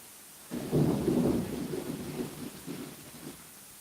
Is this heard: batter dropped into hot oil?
no